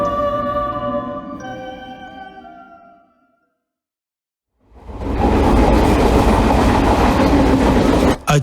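A train rumbles loudly along the rails with a steady rolling roar, following a fading harmonic tone and a brief moment of silence.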